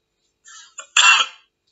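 A person coughs once, close and loud, after a brief throat rasp and a short catch, then silence; no speech accompanies the dry, forceful burst.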